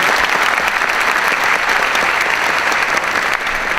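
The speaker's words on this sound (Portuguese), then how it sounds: "Palmas para ele." Audience applauding at a jubilee event as a double bassist is welcomed, with steady, dense clapping throughout at full loudness.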